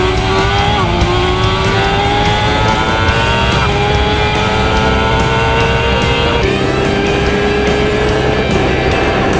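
A BMW S1000RR superbike and a Kawasaki H2R launch from a standing start over a 1000-metre run, engines screaming loud and close with rising pitch through successive gear changes, continuous high-revving roar without pause.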